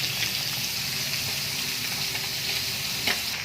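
Pork pieces fry on a tawa in a steady, dense sizzle with faint stirring scrapes and one brief clink near the end, close and continuous with no talking.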